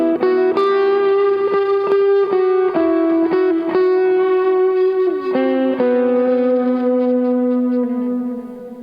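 Electric guitar playing a lead line through a distortion pedal, sustained singing notes with bends and vibrato shifting between pitches, loud and upfront, ringing out and fading at the end with no talking.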